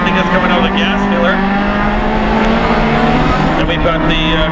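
Closed-wheel race cars at Mission Raceway roaring through the Cascade corners, loud engines droning and shifting pitch as cars pass close by, with a commentator talking over the noise.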